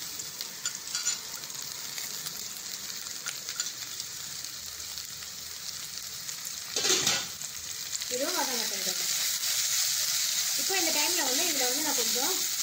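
Green chilies and tomatoes sizzle steadily in a pan of oil for a Kerala sardine curry, a continuous bright crackle that surges louder partway through, with a few brief voice-like sounds rising over the fry.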